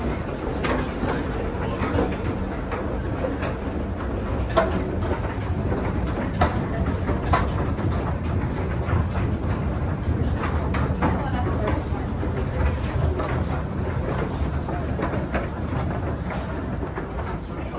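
Continuous rumbling clatter of a moving wooden Otis escalator at Macy's Herald Square with rhythmic mechanical knocking and occasional squeaks, loud and close throughout.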